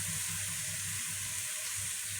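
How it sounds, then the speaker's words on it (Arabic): Minced meat frying with sautéed onion in a hot pan makes a steady, close, loud sizzle with a continuous crackle and no talking. "البصله اتشوحت خلاص، هننزل باللحمه المفرومه"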